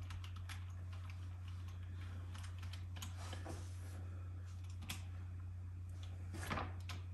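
Typing on an Apple Magic Keyboard connected to an M1 Mac mini, with steady light key clicks and occasional sharper taps close by over a constant low hum.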